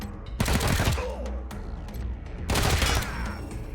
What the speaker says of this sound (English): We're going to try to shoot this guy twice.